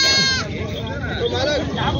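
A goat bleats once over the noisy hubbub of a crowded goat market, with people talking close by throughout.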